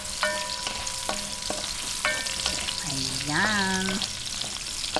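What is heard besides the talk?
frying carrots in a pan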